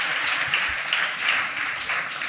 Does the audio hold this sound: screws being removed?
no